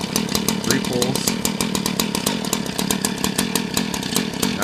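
A cold Stihl or Echo stick-equipment two-stroke engine runs steadily and loudly close by, with a fast, even buzzing rhythm throughout. Voices can be heard faintly under the engine.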